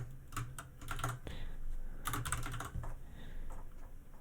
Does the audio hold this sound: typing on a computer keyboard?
yes